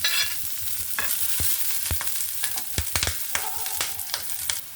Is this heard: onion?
yes